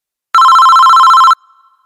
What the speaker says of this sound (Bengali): দোস্ত, তোর ফোন বাজতেছে।